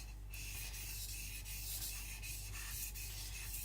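A Shibata Kotetsu gyuto knife is stroked across a coarse Shapton Pro 220 whetstone, giving a steady gritty rasping scrape with regular back-and-forth passes, close and alone.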